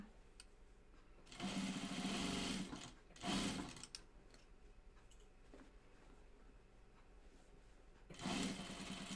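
A sewing machine stitches tightly woven Spoonflower poplin cotton for a Grainline Tamarack vest in three bursts of steady whirring, the first about two seconds long, a short one next, and a last run near the end, with quiet pauses between.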